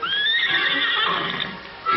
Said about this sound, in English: and the wild horses.